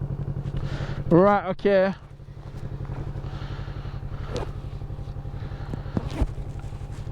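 A Kawasaki Z650 motorcycle engine pulsing steadily and close by as the ride sets off, with two brief revs early on and a rider speaking briefly over it.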